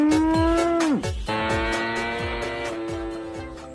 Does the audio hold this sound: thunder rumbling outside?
no